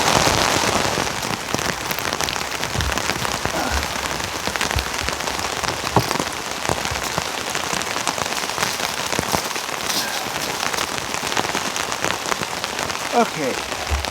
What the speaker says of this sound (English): that rain is putting the fire out